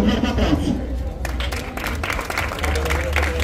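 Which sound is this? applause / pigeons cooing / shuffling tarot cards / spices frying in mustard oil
applause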